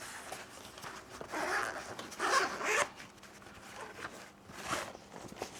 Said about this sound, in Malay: So, nak buka dia, dia ada zip.